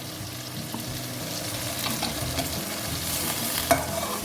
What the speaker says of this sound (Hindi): और इस मसाले को अब हम अच्छी तरीके से भूनेंगे।